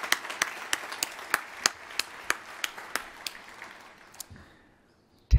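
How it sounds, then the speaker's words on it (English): Scattered audience applause at a law school class day graduation ceremony: a dozen or so sharp, separate claps spaced through the room, fairly faint and distant, thinning out and fading to quiet near the end. "Let's give yourself a big round of applause for that."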